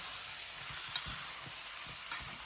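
Curry turkey wings with their ingredients being stirred in a pot, a soft sizzle under low spoon scrapes and stirring strokes, with two brief clinks of the utensil against the pot.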